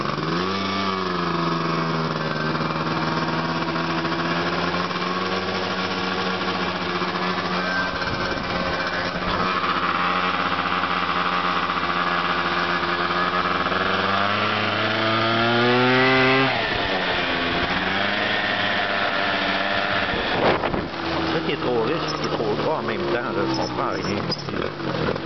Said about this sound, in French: Mais checkez bien ça, que ça fait quand je roule sur l'idle, là, c'est dégueulasse.